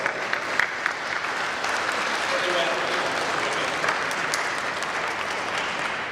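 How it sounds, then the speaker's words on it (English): A live audience claps steadily at an evening gathering, a dense and even wash of applause that holds for several seconds while a voice speaks briefly over it. "So would you give them a big round of applause?"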